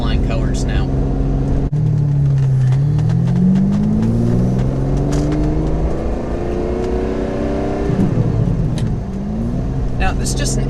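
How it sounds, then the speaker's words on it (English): Ferrari Testarossa flat-twelve fitted with a Capristo exhaust, loud and close, revving up and down in rising and falling sweeps with a deep rumble between blips. "So I got the Capstro exhaust, and I'm so happy I did. The old one was much quieter than this"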